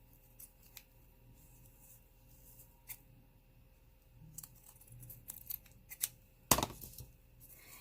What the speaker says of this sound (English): I'm just going to come back and trim the excess fabric off carefully because I don't want to cut the paper